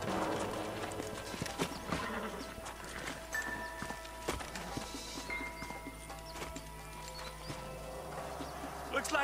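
Horses clip-clop along in the Red Dead Redemption video game, hooves beating steadily under a layer of game music and ambience, with an occasional whinny and voices talking over the scene.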